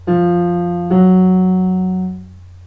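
Two piano keys a half step apart struck one after another, each note ringing clearly and close, the second sustaining and decaying alone.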